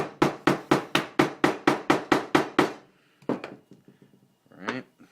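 A sharp chisel is struck by a mallet while cutting wood dovetails, giving a rapid series of about ten crisp, evenly spaced knocks up close, followed by a pause and a few quieter taps.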